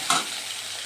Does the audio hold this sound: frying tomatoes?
yes